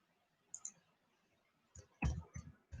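Marker or chalk writes on a classroom board in a lecture hall: faint isolated taps, then a cluster of louder close scratches and knocks with short strokes in quick succession.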